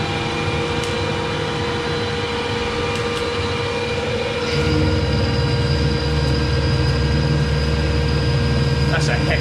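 A Hyundai QT-15n CNC lathe takes a heavy first cut, a steady loud mechanical drone with tonal whine that grows heavier partway through as the cut bites, continuous throughout.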